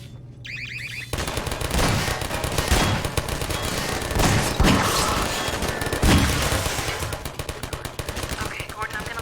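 Automated turrets in Half-Life 2 fire sustained, rapid bursts of loud gunfire after a sudden start, with sharp booms and overlapping shots and a voice talking underneath.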